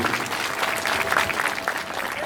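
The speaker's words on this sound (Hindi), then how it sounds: "जोरदार तालियां श्री प्रकाश जोशी जी के लिए।" Audience applause at a Hindu religious ceremony in Paschim Vihar, Delhi, where a crowd claps together in a dense, even burst that lasts the whole short moment, with no voices above it.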